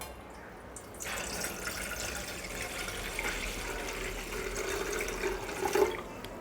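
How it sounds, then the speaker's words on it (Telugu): Water pours into a pot for mango payasam with dry nuts, a close, moderately loud splashing gush that begins after a brief quiet moment and runs steadily to the end, rising slightly near the finish. "ఇప్పుడు మనం వాటర్ వేసేద్దాం"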